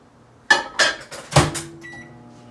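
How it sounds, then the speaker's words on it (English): A microwave oven being readied to heat a burrito: a few sharp clunks and keypad taps of the door and buttons, then a soft beep and the low hum of the oven starting up. "I will just zap my burrito"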